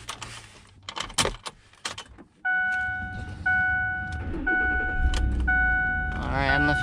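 Keys jangle, then the engine of a new Ford F-150 pickup starts and idles steadily up close, with a repeating chime ringing over the low rumble.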